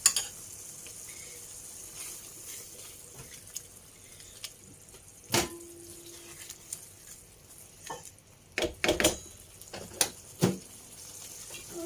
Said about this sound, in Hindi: मैंने इसमें दाल अच्छे से मिक्स किया है।